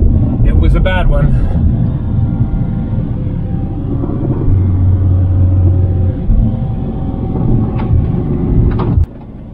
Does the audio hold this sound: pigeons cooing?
no